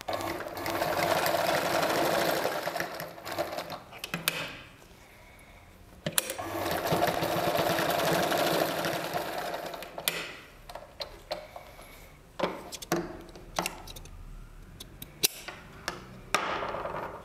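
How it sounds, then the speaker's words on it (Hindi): A sewing machine stitches fabric for a blouse tassel in long steady runs of rapid mechanical whirring. Pauses filled with clicks and handling taps separate the runs, close and fairly loud. "और यहाँ पर सिलाई लगा देते हैं।"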